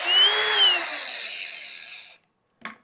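A Flex cordless grinder fitted with a cutting wheel runs on its high speed setting as a high, whirring whine that slowly winds down and fades out, followed by a brief clack.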